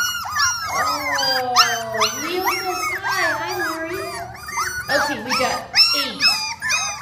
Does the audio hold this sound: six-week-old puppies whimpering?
yes